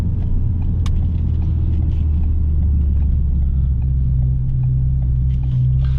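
Steady, loud low rumble from a 2017 Ford Focus RS engine and aftermarket exhaust at speed, with road noise throughout and a deeper tone that rises near the end as the revs change.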